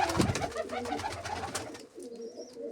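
A pigeon coos softly and close by in a series of low, throaty calls, with faint background ambience and no speech.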